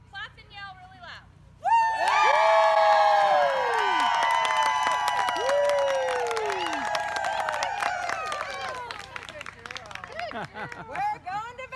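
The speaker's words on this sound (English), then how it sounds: "And everybody, just for fun, clap and yell really loud." Crowd at a trail trials event cheering and clapping loudly on request, a sustained burst of yelling and whoops with scattered claps over heavy background hum, voices overlapping near and far.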